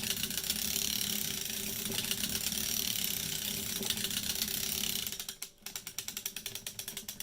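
A hand-cranked sock knitting machine knitting a 3x1 scallop-top sock, giving a steady fast clicking ratchet of the needle latches. The sound dips about two-thirds of the way through, then goes on as slower, separate clicks.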